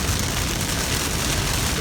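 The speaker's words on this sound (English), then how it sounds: "it's raining now" Heavy rain drums steadily on a vehicle during a storm at a campground near Hot Springs, North Carolina, a dense, loud, unbroken hiss with no pauses and no voices.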